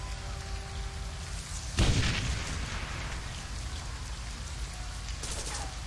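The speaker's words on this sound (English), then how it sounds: "The explosion is deafening." In the video game Shadowrun Hong Kong, an explosion destroys a bridge and a barricade: one sudden booming blast over a steady rain-like background, then a lingering rumble with more crackle afterward.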